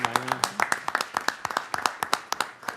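At a city council meeting, a small group claps for the 2015 Program of the Year, Reach Air Medical Services, with sparse, distinct hand claps close by and a voice briefly heard near the start.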